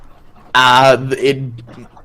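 A person imitates a dog barking during a tabletop game session, a single loud voiced bark-like shout followed by a shorter, quieter second yelp, close to the microphone.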